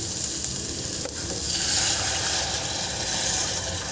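Steady sizzle and hiss of sautéed vegetables in a pan as water goes in for a clear veg soup, with a couple of sharp utensil clicks early and a continuous bubbling wash afterward.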